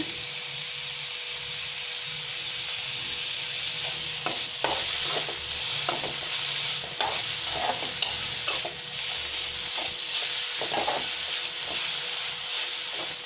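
Fresh coriander leaves, salted, sauté in a hot pan with a steady, close sizzle and hiss, while a spoon stirs and scrapes against the pan at irregular intervals.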